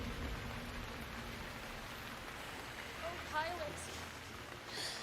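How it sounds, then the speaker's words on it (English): Rain falls steadily as a faint, even hiss of drops on a surface for a radio drama, with a brief soft whistle-like sound partway through. "now rain."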